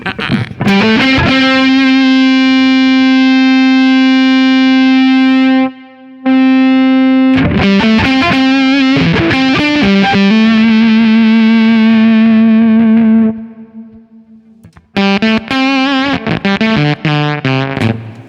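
An electric guitar through an Anasounds Feed Me fuzz pedal set to mimic a dead battery plays sputtery, gated chords and long sustained notes that cut off abruptly, separated by short silences, close and loud.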